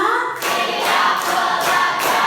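A class of students clapping in unison on a counted rhythm, several bursts of brisk group claps close by in a classroom, with no talking.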